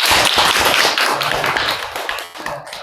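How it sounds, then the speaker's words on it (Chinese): Warm applause from a lecture audience thanking a professor after a talk on Sui-dynasty Buddhist statues at a county museum, dense rapid clapping that stays loud throughout and tapers slightly toward the end. "让我们再次以热烈的掌声感谢魏教授的分享。"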